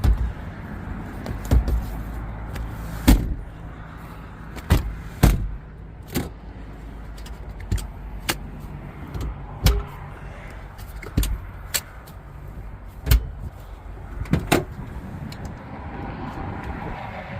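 Rear seats of a 2015 Toyota Land Cruiser 200 Series folding, heard as a string of sharp clunks and latch clicks spread unevenly over steady background noise, with no talk.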